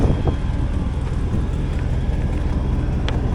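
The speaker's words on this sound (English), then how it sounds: "let's listen to the engine." A 6.0L LQ4 V8 engine from a 2003 Hummer H2 idles steadily with a deep, continuous rumble, close and fairly loud, with no voices over it.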